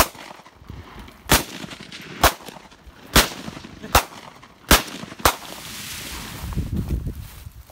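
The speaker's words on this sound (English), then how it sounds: "Let Louis hit that hoe with the Draco." Six sharp Draco pistol gunshots crack out one after another at irregular gaps of under a second, loud and close outdoors, with a little distant chatter between the shots.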